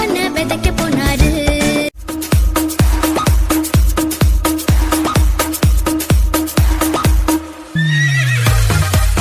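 A horse neighs and whinnies loudly amid a steady, rhythmic clip-clop of hooves, with a long descending whinny near the end; a lively children's song plays alongside the animal sounds at a church summer Bible school event.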